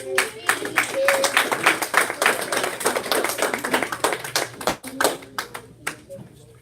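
A crowd claps and cheers loudly and steadily, with sharp hand claps and voices blending into a continuous roar throughout.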